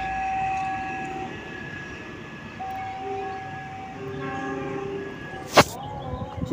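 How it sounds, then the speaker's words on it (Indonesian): The Jayabaya train rumbles through Lamongan station with long, steady tonal whines from the wheels and rails, ending in a sudden loud metallic screech or horn blast near the end. "Kereta api Jayabaya sudah melintas."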